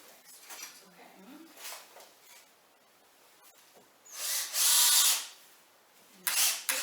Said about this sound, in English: And put the screws in just to the point where they're poking out the other side.